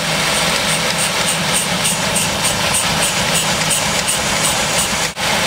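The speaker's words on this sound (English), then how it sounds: "you can hear the engine stumbling as we give it vacuum, so the EGR is working" A car engine idles steadily with a rough, uneven stumble as vacuum is applied to the EGR valve, a continuous low rumble with a brief dip near the end.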